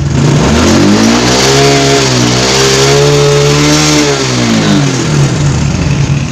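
A Honda Supra X 125 injection motorcycle engine with a stuttering fault revs loudly and close, its pitch rising and falling steadily in a continuous drone.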